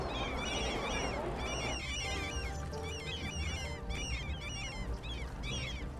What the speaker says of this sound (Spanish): me están volviendo loquísimo los pájaros